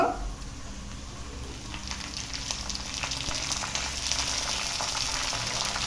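Chopped onions and mint frying in a pan, a steady crackling sizzle that grows denser and louder after the first couple of seconds, with faint stirring in the background and no voices.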